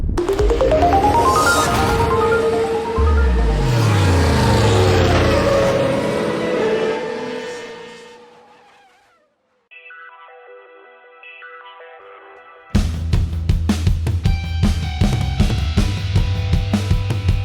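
A channel intro jingle for a car review show plays loud and alone: sweeping tonal and engine-like swells that fade to near silence, a sparse chiming passage, then a punchy rhythmic music sting.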